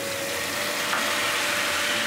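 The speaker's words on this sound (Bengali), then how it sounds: "এবার আমার ভাজাটা কিছুটা হয়েছে, এবার আমি এর মধ্যে টমেটোটা দিয়ে দিলাম" Vegetables fry in a kadai just after tomato goes in, giving a steady, close, bright sizzle that holds evenly for two seconds with no voices.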